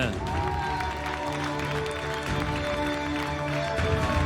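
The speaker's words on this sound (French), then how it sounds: "un tonnerre d'applaudissements pour Loïc" Studio audience at the Koh Lanta 4 Terres 2020 finale applauds contestant Loïc: steady, loud clapping and some cheering mixed with sustained music throughout.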